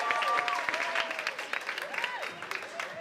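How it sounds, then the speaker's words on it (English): Applause for songwriters at a school spring concert, a busy patter of clapping hands with a few cheers and whoops rising over it, lively and close for a few seconds. "how about another big round of applause for Michael Dorio and Eric Toledo."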